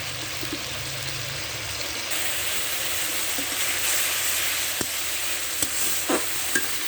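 Chili powder and spices sautéing in oil for a fish curry give a steady, soft sizzle with occasional stirring scrapes and clicks near the pan.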